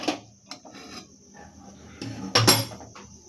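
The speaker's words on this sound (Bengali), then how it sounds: "আমি আবার দুধের কড়াইটা বসিয়ে দিলাম।" A metal wok for milk is set on the stove during semai payesh cooking, close clanks and scrapes of metal with a louder knock near the end and no talk.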